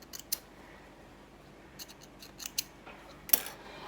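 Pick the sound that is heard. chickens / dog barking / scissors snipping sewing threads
scissors snipping sewing threads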